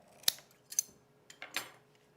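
Scissors snip through bra fabric while sewing a Loftus bralette, four or five crisp close cuts in an irregular rhythm with no talking.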